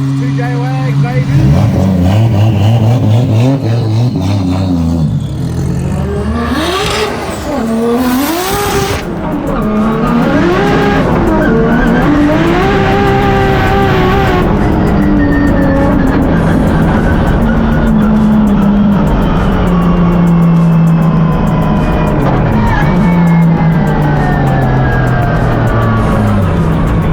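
A 2JZ-engined wagon revs hard while drifting, its engine wailing and rising and falling continuously. Squealing tires run through the whole stretch, loud and close.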